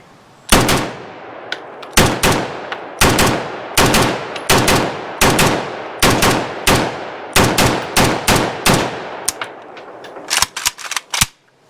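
An Arsenal SAM5 rifle fired rapidly with a smoke magazine, sharp loud shots in quick bursts and pairs, close and outdoors, ending with a fast final string.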